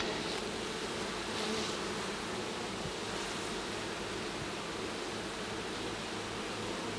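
Honeybees buzz in a continuous, dense hum during a hive split inspection, close and steady throughout with no talk.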